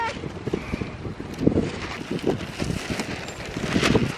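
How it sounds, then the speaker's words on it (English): Strong wind gusts buffet the microphone outdoors near a kite flight, rising and falling in irregular rumbling bursts, with people talking faintly in the background. "It is really windy."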